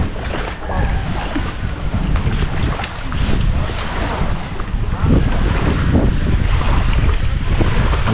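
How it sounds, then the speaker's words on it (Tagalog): Strong wind blows across a boat at sea, loud gusty buffeting on the microphone with rushing water and rolling wave noise, continuous and uneven throughout. "Malakas na uling hangin."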